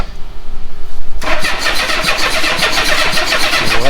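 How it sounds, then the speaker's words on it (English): An old Honda Goldwing motorcycle engine with faulty carburetors, running on starting fluid: about a second of quiet, then it catches and keeps firing in a steady, loud, rough rhythm close by. "It runs quite a while on starting fluid."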